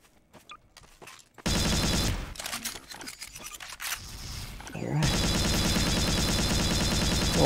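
A cannon weapon in Garry's Mod fires in a loud, bursting sequence of blasts. Scattered sharp cracks come first, then a sustained roaring wash of noise, close and heavy, with no voices over it.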